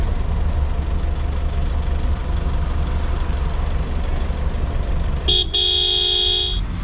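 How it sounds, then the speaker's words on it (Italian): Dense road traffic in Uzbekistan rumbles steadily, with engines idling and passing, until a loud car horn blares near the end in two close honks over the constant noise. "La situazione del traffico è la seguente."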